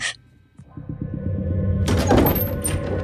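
A door swings open with a creaking groan and a low thud, followed by a louder, swelling burst of sound, all alone with no voices.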